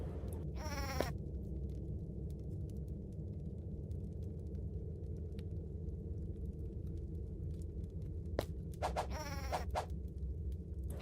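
A sheep-like creature in the game Starbound bleats in two short bursts, one near the start and another near the end, over a steady low ambient rumble.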